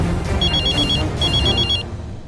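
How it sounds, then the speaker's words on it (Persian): A telephone rings in two trilling bursts, its bell-like warble clear over a low background hum with no voices. "پدر تلفونت جواب بده."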